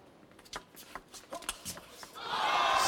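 Spectators at a table tennis match between Ovtcharov and Fan Zhendong at the 2017 ITTF World Tour Grand Finals: scattered claps and sharp sounds build into a loud burst of crowd cheering near the end, with a commentator's voice speaking underneath.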